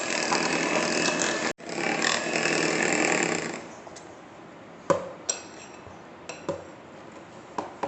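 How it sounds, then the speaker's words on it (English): An electric mixer beats wheat and coconut cookie batter until creamy, a steady, loud whirring for about four seconds that briefly cuts out, then drops to a quieter churn broken by a few sharp clicks. "We have to beat them till they become creamy."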